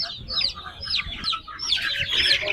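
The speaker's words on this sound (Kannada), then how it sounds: "ಇದು ಸೋನಾಲಿ ನಾಟಿ ಅಂತೆ. ನಾಟಿ ಕೋಳಿ ತರನೇ ಬರುತ್ತೆ." Sonali Nati chickens and month-old chicks at the Akkirampura weekly poultry market cluck and cheep close by in a busy, overlapping stream of short calls, growing denser toward the end.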